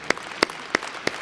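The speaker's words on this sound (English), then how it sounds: "You are applauding for Orban Viktor" Scattered applause from an audience at a Europa Viva25 political rally: four sharp, evenly spaced claps across about a second, moderately close, with a quiet room hum between them.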